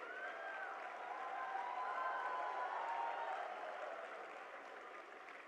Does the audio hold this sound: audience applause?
yes